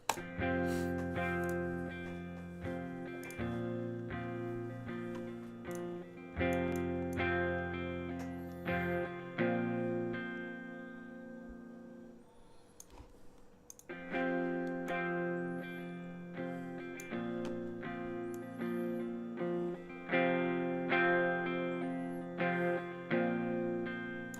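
Distorted electric guitar plays chords and riffs with effects, strummed in rhythmic bursts, with a short quiet gap midway before resuming.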